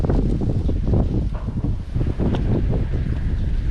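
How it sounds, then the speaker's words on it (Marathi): Strong wind buffeting an open outdoor spot, a loud, steady rushing roar with gusty surges and heavy microphone rumble throughout. "वाऱ्याचा वेग एवढा प्रचंड आहे"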